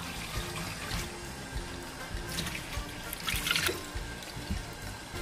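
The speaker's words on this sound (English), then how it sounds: "For every cup of lentils, 3 cups of water." Water pours from a tap into a cooking pot for lentils, a continuous trickling and splashing stream with brief louder surges.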